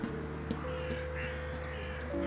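Crows in a Paris botanical garden caw repeatedly, several sharp calls spaced across a couple of seconds over steady background hum, fairly close and clear.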